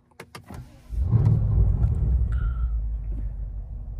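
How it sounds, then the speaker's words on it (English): A BMW engine cranks and catches after a few clicks, then settles into a steady low idle rumble that runs close and even to the end. "once I start the car again"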